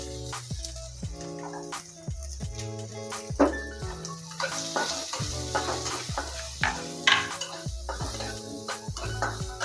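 Onion frying with green chilies in hot oil for rava upma, a steady close sizzle with regular scraping and clinking of a spoon against the pan throughout.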